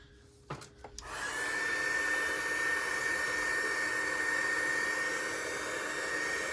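A heat tool blows on a resin turtle mold, a steady loud rushing whoosh that starts after a couple of brief clicks and holds unbroken to the end.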